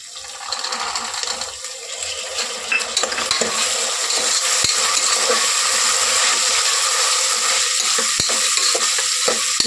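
Peas and onion frying in hot oil with whole spices, a loud continuous sizzle with scraping stirs and occasional clicks of a utensil against the pan, no talking.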